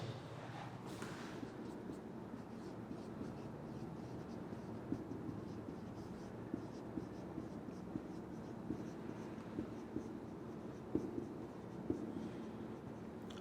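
A marker or chalk scratches across a board during a chemistry lesson, with soft, irregular strokes and taps over a low room hum, quiet and close.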